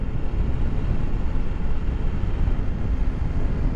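A 2022 Husqvarna Norden 901 motorcycle engine gives a steady, low, rumbling drone with some wind buffeting over the whole short stretch, and no one speaks.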